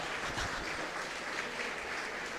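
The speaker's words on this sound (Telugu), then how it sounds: "చాలా తక్కువగా చప్పట్లు మోగుతాయి నాకు తెలుసు." Sparse audience applause rises during a public speech on caste: a short, steady wash of many hands clapping at a distance, with no voices over it.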